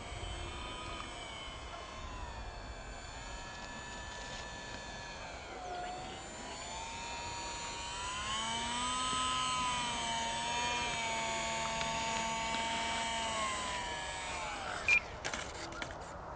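A small UMX Gee Bee R-2 electric model airplane flying outdoors in cold weather, its whining motor pitch rising and falling as it passes, fairly distant and steady, ending with a short knock as it lands.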